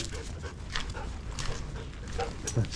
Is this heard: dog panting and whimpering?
yes